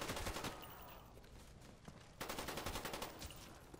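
Rapid automatic AK rifle fire in Black Ops Zombies on the Kino Der Toten map, loud and sustained in dense rattling bursts with a short lull midway before the firing resumes.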